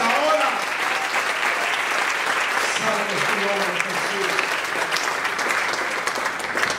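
A church congregation claps loudly and steadily during a Spanish-language sermon, a dense wash of applause lasting several seconds with voices calling out over it.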